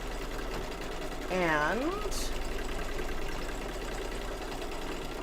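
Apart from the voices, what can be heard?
embroidery sewing machine stitching fabric down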